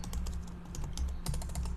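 Quick, light keystrokes on a computer keyboard, a short burst of close, fairly soft clicking with a few louder taps.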